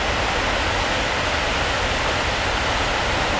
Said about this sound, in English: Here we have the dam on the River Road on the Raquette River